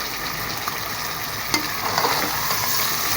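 Chopped tomatoes fry with spices in a pan for palak gosht, giving a continuous, even sizzle with faint stirring scrapes. Two small clicks sound partway through, and nobody speaks.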